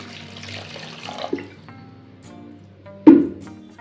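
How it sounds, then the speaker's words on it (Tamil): Water splashes and pours briefly into a pot of frying masala for mochai (field bean) curry, with a sharper splash near the end over faint kitchen background noise. "ஒரு கப் தண்ணி ஊற்றிக்கலாம்."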